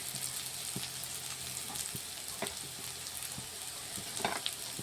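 Onions fry with turmeric, cumin-coriander and mixed spice powders in a pan, giving a steady crackling sizzle broken by stirring scrapes and light clicks from the spoon.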